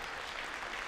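Brief burst of audience applause in a hall at a student robotics competition, a dense crowd clapping in a short, even wash.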